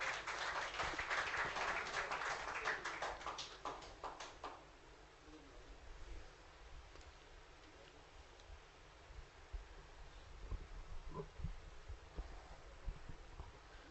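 An audience at a poetry gathering claps in a brief burst of applause that fades after about four seconds, leaving quiet room noise and faint rustling.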